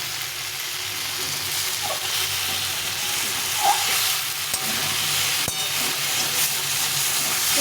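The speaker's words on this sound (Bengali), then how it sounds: "ভালো করে মশলাটা কষিয়ে নিয়েছি সবজির সঙ্গে" Masala cooking down with ridge gourd in a pan gives a steady, fairly loud sizzling hiss throughout, with a few soft stirring scrapes and no talking.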